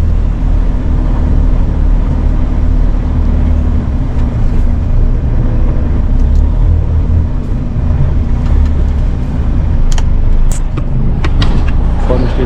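Steady, loud road noise from a vehicle driving toward a workshop in Idar-Oberstein, a constant low rumble throughout with a few faint clicks and rattles near the end.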